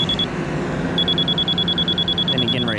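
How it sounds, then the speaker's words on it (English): Fast high beep from a grade level receiver on a large basement excavation: a steady chain of quick, evenly spaced electronic beeps over a low machinery rumble, with a short break near the start. "we shoot for the fast beep, which is high, and the slow beep is low"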